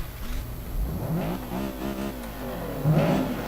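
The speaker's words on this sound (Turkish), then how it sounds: "Ondan şöyle gazlamamıza başlayabiliriz" A lowered Honda Civic EG engine revs up in rising, wavering pulls, a mid-pitched drone climbing and easing back, then surging again toward the end, close and fairly loud.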